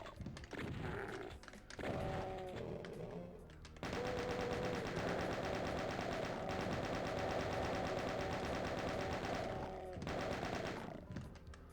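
Sustained rapid gunfire from weapons in the video game Ultimate Doom, with a brief burst early and then a continuous loud barrage of shots holding for most of the stretch before a short pause and a final burst.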